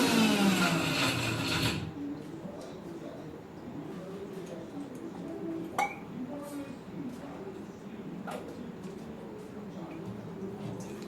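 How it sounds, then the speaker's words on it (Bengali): A mixer grinder runs loud and close on idli batter for about two seconds, then cuts off, leaving quieter kitchen clatter and a few clicks and taps. "মিক্সিটা আমার ওই পাশে আছে, আমি বেটে নিলাম"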